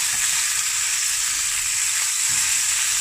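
Lamb shank browns in a hot pan, giving a steady, close, even sizzle and crackle of frying meat throughout, with no voices.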